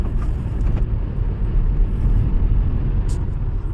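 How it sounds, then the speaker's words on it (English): Car driving through Bangalore traffic at around 40 to 60 km/h, a steady low road rumble and engine drone filling the whole stretch without a break, with no voices. "Bangalore is a city mein I'm driving at 40, 60 kilometers per hour"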